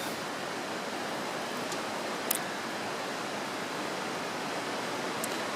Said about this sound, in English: Creeks are very loud.